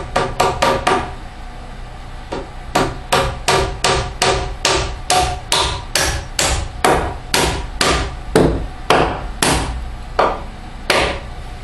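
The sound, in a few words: hammer driving nails into wood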